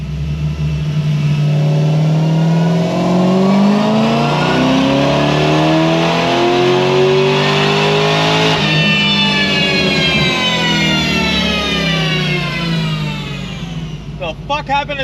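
A supercharged Pontiac GXP engine revs hard, pitch climbing steadily with supercharger whine rising over several seconds, then easing back down before crackling off at the end; loud and close throughout.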